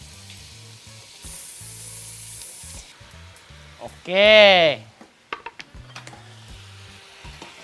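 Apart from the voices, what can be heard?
meat frying in a pan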